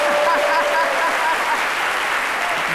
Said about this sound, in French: il faut applaudir.